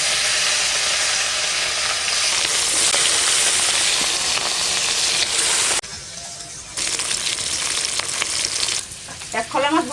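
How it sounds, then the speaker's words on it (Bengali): Pieces of katla fish frying in hot mustard oil in a kadai, loud continuous sizzling and crackling that dips briefly midway before resuming with spattering bursts, no voices. "এখন মাছগুলো ভেজে নেবো।"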